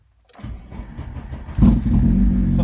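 A car that had been sitting unused for about a week cranks briefly and catches, its engine then settling into a loud, steady idle close by.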